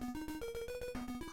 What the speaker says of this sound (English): that's the sound of the tiles when they roll across the screen.